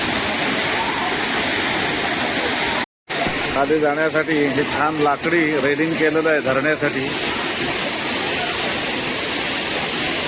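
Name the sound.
Sawdav waterfall at Kankavli, water falling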